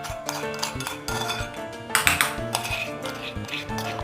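Coarsely ground garlic and red masala paste is scraped from a grinder jar into a small steel bowl. Close metallic clinks and scrapes ring out in quick bursts, with a voice talking over part of it.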